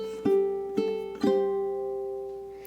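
A ukulele plays a punk rock lead riff of three plucked double-stop notes, each ringing clearly, the last one sustained and fading, played alone without talk.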